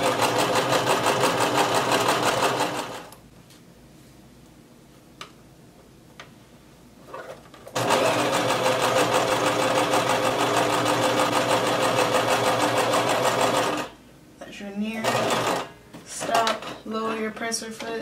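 A home sewing machine stitches along the edge of a coat dress, running steadily at a dense, even hum that stops partway for a pause with light handling clicks, then resumes before ending in short stop-start bursts.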